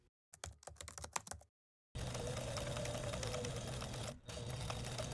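Sewing machine with a binder attachment stitching waxed canvas, a short run of sharp clicking taps, then a steady loud mechanical whir that dips briefly and resumes.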